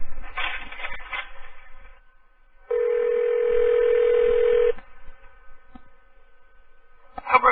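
A landline telephone is dialed on a call-in radio show, a burst of keypad DTMF tones followed by a steady two-second dial tone, then more quick tone bursts, with faint background noise between them and no speech.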